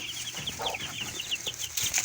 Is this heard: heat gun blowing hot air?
no